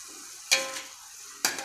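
Bean sprouts stir-fry in a pan with a quiet, steady sizzle, cut by two short, sharp bursts as the sprouts are tossed.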